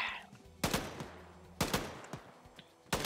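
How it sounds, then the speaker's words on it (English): Video-game gunfire during a squad rooftop clearing mission, shooting at a corpse: three sharp, loud bursts of rapid shots about a second apart, each trailing off into echoing decay. "You're shooting at a corpse."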